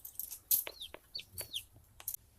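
Chickens clucking near a hatching setup for new chicks: a few quick rising and falling clucks and short calls, close and fairly quiet over a soft low background hum.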